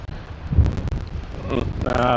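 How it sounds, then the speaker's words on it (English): Strong outdoor wind buffeting a microphone on a windy day, heavy low rumbling gusts with a person talking over them toward the end. "Of course I picked a day when it's super windy"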